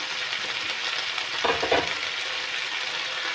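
Boiled macaroni and sausage are stirred in a hot pan, giving a continuous close sizzle with a brief burst of louder scraping strokes midway.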